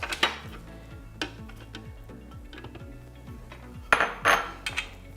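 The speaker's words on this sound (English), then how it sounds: "I'm going to put in the lentils." Lentils added to a pan while making black bean burgers, a few close clatters and scrapes of utensils against the pan over a faint background hum, with louder knocks near the end.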